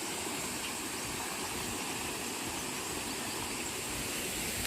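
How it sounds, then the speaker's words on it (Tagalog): Small clear river in the hills of Bohol, Philippines, with water rushing steadily and evenly, a dense broadband wash that stays constant and close throughout, with no voices. "Meron po kami ditong maliit na ilog. At napaka-clear po yung tubig dito."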